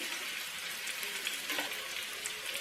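Kerala-style fish molee masala sautéing in a pan with pepper and salt, a dense, even sizzle heard up close with no voices.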